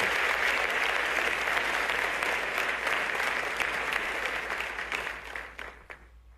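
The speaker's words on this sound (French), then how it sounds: "Sous vos applaudissements, s'il vous plaît." An audience at a political gathering about Senegal's 2050 project applauds warmly, dense sustained clapping that gradually thins and fades out.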